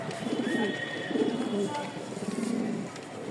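A Toy Lahori pigeon coos in soft repeated low phrases, close by, as the male displays after a female is released; a faint voice is present in the background.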